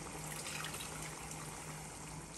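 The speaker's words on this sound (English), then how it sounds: "I add in 4 cups of water there and I'm gonna add in about 6 more cups." Water poured into a pot for a Guyanese dhal cook up, a steady close gushing fill without pause, ending with a small splash.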